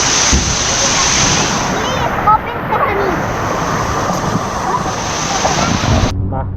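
Waves churn and splash in a water park wave pool in Nakhon Nayok, a loud, continuous rushing wash with wind buffeting the microphone and voices in the background.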